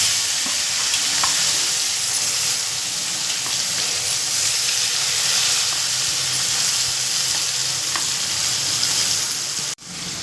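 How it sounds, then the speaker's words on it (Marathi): Chopped tomato frying in a kadhai tempering of cumin, mustard seeds, turmeric and garlic for a cabbage dish, a steady loud sizzle with light stirring throughout, cutting off abruptly just before the end. "कापलेला टोमॅटो टाकायचा आहे आपल्याला कढईमध्ये"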